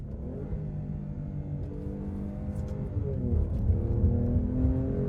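A 2024 Alfa Romeo Stelvio Quadrifoglio SUV accelerating hard after an upshift from the paddle: a sustained engine drone from inside the cabin that briefly shifts pitch, then swells louder as revs climb.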